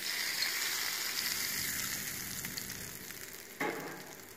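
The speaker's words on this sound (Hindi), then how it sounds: "अब इसमें मैं ये तड़का डाल दूंगी।" Hot tadka of oil and spices poured over cooked chana dal in a bowl sizzles steadily and softly, a fine crackling hiss with a brief louder burst near the end, no voices.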